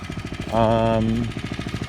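A lawnmower running over fall leaves during a yard cleanup in Spruce Grove, its engine chugging in a steady, rapid pulse throughout, while someone speaks briefly over it.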